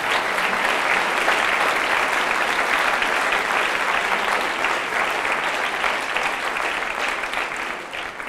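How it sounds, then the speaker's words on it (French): Sustained, dense applause from a political rally audience in support of the Kurdish people, loud and steady throughout before easing slightly at the end. "je voudrais qu'on fasse encore une salve d'applaudissements"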